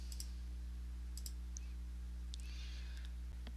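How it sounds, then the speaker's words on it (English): A computer mouse clicks the remove button in the XSplit broadcasting software, giving a few faint, short, crisp clicks spread over a steady low electrical hum. "To remove a source from the list, just select it in the list and click the remove button."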